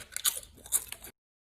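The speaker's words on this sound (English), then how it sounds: "Listen to the crunch." Several sharp, loud crunches of crisp homemade potato chips being bitten and chewed up close, in irregular bursts, then silence.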